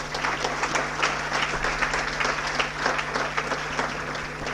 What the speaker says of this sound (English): With the loudest of applause for the day.